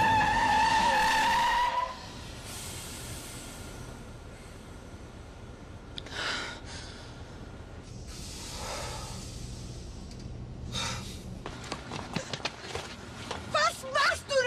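Car tires squeal and skid at night, a sharp burst near the start followed by further screeching passes and rough engine noise, with people talking loudly afterward.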